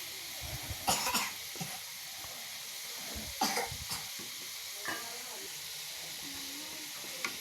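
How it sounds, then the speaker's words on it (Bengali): Potatoes frying in a pan, a soft steady sizzle broken by several clattering scrapes and stirring knocks, with a few brief voice-like sounds over it. "আমার আলু আস্তে আস্তে আমি লাড়া দিয়ে দিতেছি, আর এক পিঠ করে ভাজা হয়ে যেতেছে দেখেন"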